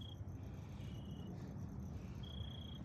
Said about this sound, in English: Crickets, that's what we hear.